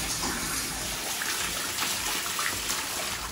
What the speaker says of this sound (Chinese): 放水。